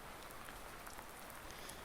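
Steady, faint rain falls on a farmyard, a soft continuous hiss with scattered drop taps and no voices.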